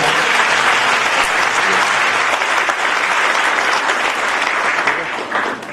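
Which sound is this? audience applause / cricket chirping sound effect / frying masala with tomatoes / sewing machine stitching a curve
audience applause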